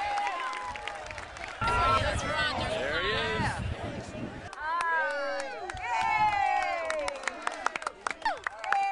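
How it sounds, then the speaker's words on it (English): Racetrack crowd at the 2000 Florida Derby cheers and claps for winning horse Hal's Hope, with a loud mixed roar of cheering and applause under close talk, followed by scattered claps near the end. "what an ovation from the local crowd here who loves this horse, and the owner, and the jockey."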